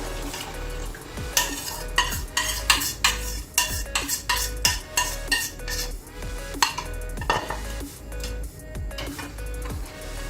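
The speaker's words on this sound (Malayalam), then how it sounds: "ഇത് നമ്മൾ ഇനി നന്നായി ഇളക്കി കൊടുക്കണം കൈ വിടാതെ ഇളക്കി കൊടുക്കണം" A spoon scraping and knocking around a pan while a cornflour halwa mixture is stirred continuously, giving rhythmic clinks and scrapes over a low background, with no talking.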